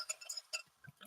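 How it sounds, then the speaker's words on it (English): Pepsi Zero Sugar cola poured into a glass outdoors at Laurelwood Golf Course, a quick run of bright glassy clinks and liquid splashes over about a second, close and fairly quiet. "Listen to that endless pour."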